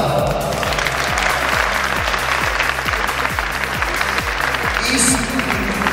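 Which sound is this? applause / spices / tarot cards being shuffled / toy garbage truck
applause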